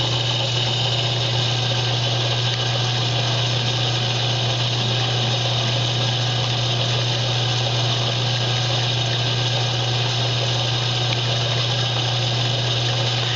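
A small lathe with a milling head machining a shaft for a taper, humming steadily with a strong low drone and constant mechanical whir, loud and unbroken with no speech.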